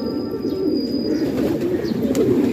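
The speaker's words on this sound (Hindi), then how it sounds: "दो कबूतर ये फिर रहे हैं" Flock of pigeons cooing steadily nearby at a pigeon-flying loft, a dense low warbling murmur with a few faint higher chirps over it.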